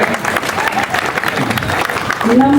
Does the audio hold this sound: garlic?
no